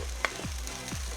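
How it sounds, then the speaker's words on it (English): Rice stir frying in a pan with peppers gives a steady, close sizzle, with two short scraping stirs of the utensil and a brief clack near the start. "So we're just gonna get that stir frying"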